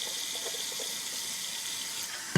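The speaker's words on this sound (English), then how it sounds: "I hope this water is not too much" Water runs steadily from a tap in a thin, constant hiss that stays level throughout, fairly quiet and heard alone.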